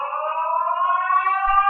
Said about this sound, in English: you can use that or a siren